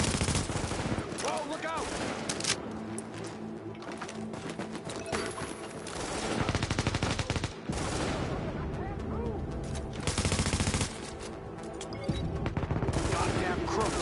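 Dense bursts of automatic gunfire and single shots ring out in a street firefight in the video game The Division, loud and nearly continuous, with players shouting briefly over the shooting.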